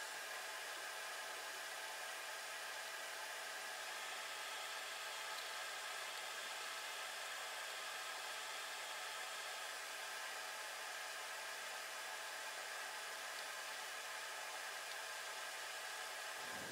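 A hot air rework station set to 450 degrees Celsius and 50% airflow blows across an Xbox One S circuit board during soldering, a steady, loud hiss that runs unbroken and then cuts off at the end.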